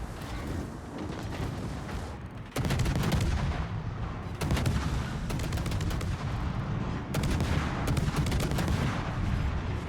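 Naval gunfire from battleship guns in the World of Warships video game, a series of loud booming salvos at irregular intervals over a continuous rumbling battle background, with no talk.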